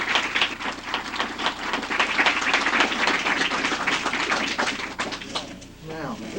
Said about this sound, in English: Would you stand up so we can give you a round of applause